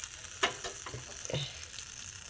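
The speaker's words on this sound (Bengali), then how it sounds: "কম তেলে আস্তে আস্তে ভাজা হবে।" A vegetable Mughlai paratha fries slowly in a little oil in a pan, giving a soft steady sizzle with a few sharper crackles and the faint scrape of a turner, close and quiet.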